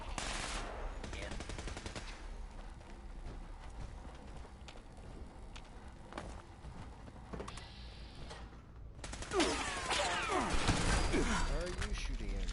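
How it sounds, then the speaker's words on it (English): Rapid bursts of gunfire crackle throughout, dense and continuous, swelling louder near the end with sharp repeated shots and a mechanical whir under scattered voices. "Are you shooting at me?"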